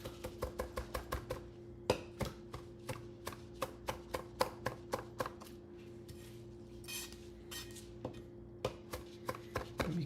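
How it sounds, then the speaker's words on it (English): Knife chopping flat-leaf parsley on a board, rapid regular thuds close up, then steadier spaced cuts with brief pauses, quiet overall and with no talking. "And then we just chop the hell out of it."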